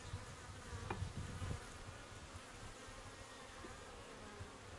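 Honeybees buzz inside a top bar hive during an inspection, a faint, continuous droning hum with a few individual bees passing closer, without any voices.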